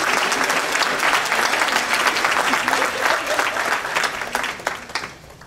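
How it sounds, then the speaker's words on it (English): At St. Joseph's Episcopal Church the congregation gives sustained applause for family members, a thick, steady roar of clapping that loosens into scattered claps and tapers off toward the close. "a round of applause."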